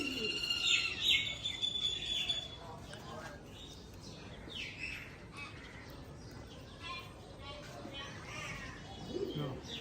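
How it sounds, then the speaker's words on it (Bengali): Cooing and chirping of a hen pigeon from a hobbyist's loft collection, soft repeated calls at close range with people talking over them and background noise throughout. "এটা মাদি কবুতর।"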